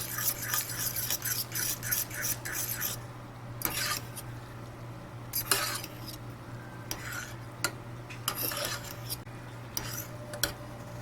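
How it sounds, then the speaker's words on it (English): Maruchan Yakisoba Korean BBQ instant noodles stirred in a dish, with irregular scraping, clinking and rubbing strokes of a utensil over a steady low hum, fairly close and quiet. "Alright, let's stir it up."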